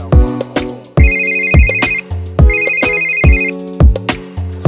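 A phone ringtone plays loudly and close, a repeating melodic pattern of chiming notes in regular cycles while a call goes through, with no talking over it.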